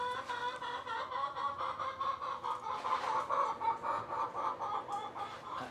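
Hens cluck continuously in a busy, overlapping chorus, close and fairly loud, with a rhythmic pulsing quality.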